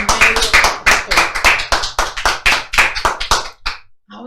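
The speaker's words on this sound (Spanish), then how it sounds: "le dan ese fuerte aplauso al Rey de los cielos" A congregation at a church sermon claps in a brisk, slightly uneven rhythm, loud and close, for about three and a half seconds before it stops abruptly.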